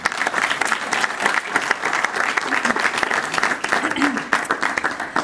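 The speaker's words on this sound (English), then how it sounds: "So we want to give her a round of applause." An audience at a state government press event on universal free school meals gives a warm round of applause, sustained clapping from many hands at a steady level for several seconds.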